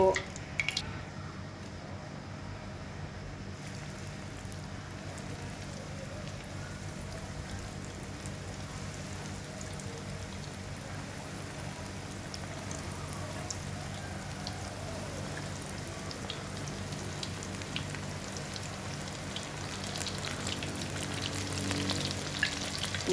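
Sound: pangasius fish frying in a pan

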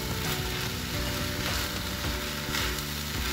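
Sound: stirring chicken spring roll stuffing sizzling in pan

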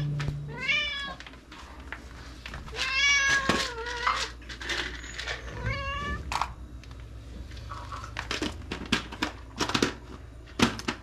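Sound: cat meowing impatiently

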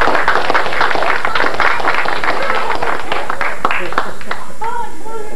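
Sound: people clapping for a little boy

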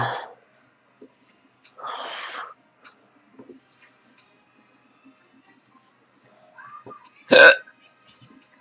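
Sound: hiccups

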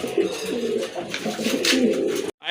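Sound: pigeons cooing

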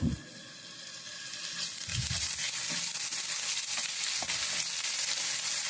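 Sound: onions frying golden brown with ginger garlic paste

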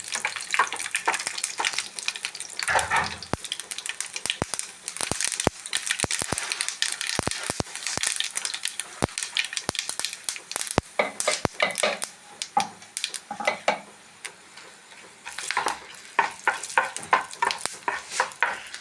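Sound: green chillies frying in pan

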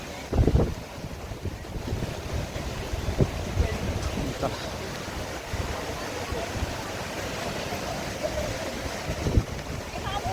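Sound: Sai waterfall near Karnala fort

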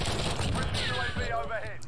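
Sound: pistol shots in FPS video game after pistol switch

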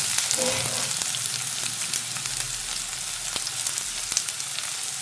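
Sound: sliced onion frying with curry leaves in hot oil

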